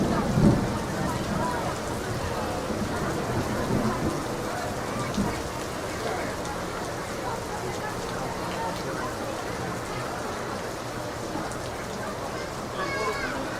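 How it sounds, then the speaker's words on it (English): Steady rain falls during a thunderstorm with lightning at Magic Kingdom, a continuous wash of rain over low thunder rumbles. Early on there are a few louder low booms, and faint talk runs underneath. "Crazy lightning and thunder."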